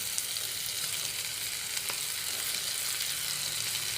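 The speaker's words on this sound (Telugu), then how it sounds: "నెక్స్ట్ వచ్చేసి అల్లం వెల్లిపాయ వేసుకుందాం." Ginger garlic paste fries in oil for a mixed vegetable curry, giving a continuous, even sizzle close up with faint stirring ticks and no voices.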